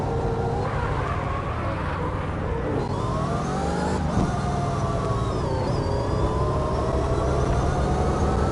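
Engine sound from the CarX driving video game plays continuously, with the pitch rising and falling as the car revs and shifts up and down through the gears, loud and steady with no talk.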